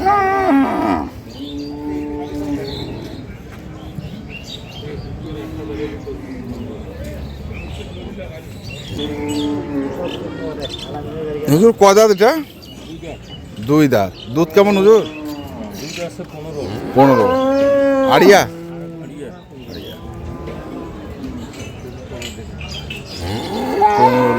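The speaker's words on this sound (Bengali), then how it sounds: "গাভী এবং বাছুর" Improved-breed dairy cows and calves low in several drawn-out, resonant moos at Ambari cattle market, amid a bustle of people talking and bargaining nearby.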